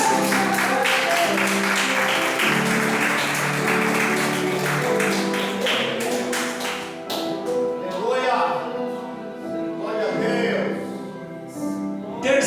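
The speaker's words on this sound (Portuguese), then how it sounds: "Você pode aplaudir o nome do Senhor Jesus?" A church congregation applauds, a dense wash of clapping mixed with voices and music in a reverberant hall, loud and sustained before it thins out.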